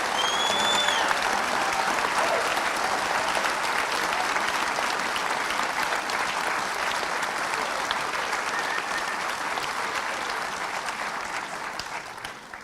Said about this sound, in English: could I ask you just once more for a big round of applause for all of our graduates